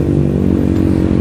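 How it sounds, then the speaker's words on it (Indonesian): A motorcycle engine rumbles close by in a short, steady burst, with a low throbbing growl and some mechanical clatter. "Wih, motor apa tuh sob?"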